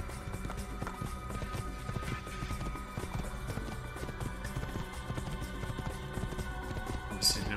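Horse hooves gallop steadily in the Assassin's Creed video game, a dense, continuous clip-clop rhythm at close range over a busy game soundscape.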